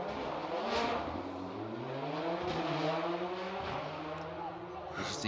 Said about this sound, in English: Barry Groundwater swapping the Subaru World Rally car for that Evo 6 this year